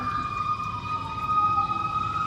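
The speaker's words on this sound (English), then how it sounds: "Oh my god, the sirens!" A wailing emergency siren holds steady tones at moderate distance, sounding continuously over low background rumble.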